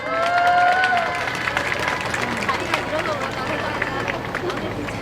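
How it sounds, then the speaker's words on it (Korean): Outdoor crowd at a Wednesday street rally over Japanese military sexual slavery applauds to welcome a women's hotline leader, steady clapping and crowd noise filling the whole stretch, loudest at the start. "선생님 모실 때 큰 박수 부탁드립니다."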